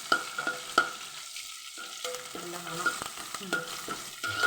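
Curry leaves and garlic fry in hot oil in a pan as tempering for masoor dal curry, a steady close sizzle with stirring scrapes of a spoon throughout, no voices.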